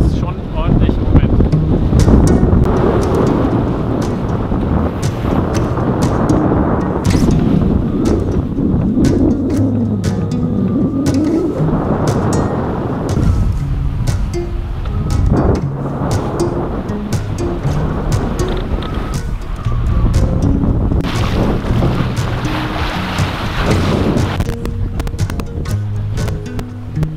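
Strong gusty wind roars over a Sirius 310 DS sailboat sailing near the coast toward Fehmarn, with waves rushing against the hull in a continuous loud rumble while people talk on board.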